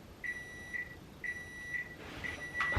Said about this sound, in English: That was the alarm for my COVID test.